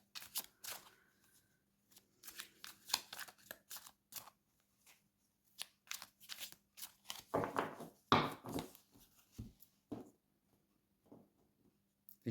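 Playing cards are shuffled in repeated bursts of riffling and snapping at close range, quick crisp flurries separated by short pauses, with no talk.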